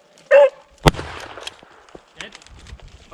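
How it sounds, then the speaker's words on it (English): A beagle gives a single sharp bark during a rabbit hunt on public ground in Pennsylvania, followed by a loud gunshot-like crack, with faint rustling and scattered noises after in an outdoor setting. "I don't know if she just barked."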